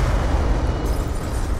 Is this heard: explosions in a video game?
yes